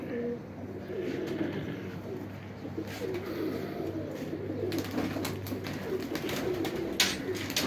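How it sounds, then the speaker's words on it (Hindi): Ferozpuri pigeons coo softly and steadily against a low background murmur, with faint rustling and the occasional chirp nearby. "ये जी मेरे कबूतर हैं जी, फिरोजपुरी कबूतर हैं।"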